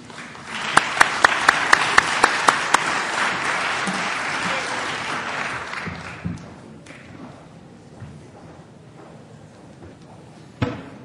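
An audience breaks into loud, sustained applause to welcome a speaker at a lecture, with a few sharp claps standing out before the clapping fades away over several seconds.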